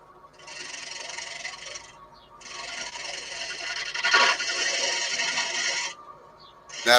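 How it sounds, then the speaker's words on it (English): A chisel making a light finishing cut on a figured red gum platter spinning on a lathe, giving a steady loud rasping hiss in long back-and-forth passes with brief breaks. "the best part about this cut is that you can just go backwards and forwards on it, provided you keep the chisel in"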